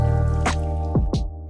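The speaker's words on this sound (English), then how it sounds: "Continue rinsing and straining your sorghum grains until the water runs clear." Sorghum grains being rinsed and strained in water in a home kitchen, giving a running watery background with a few distinct wet drips and squishy splashes, close and fairly loud, with no talking.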